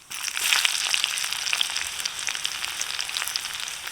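Garlic and mustard seeds crackle and fry in hot oil, a dense, steady sizzle with small popping bursts throughout, close and alone with no talk.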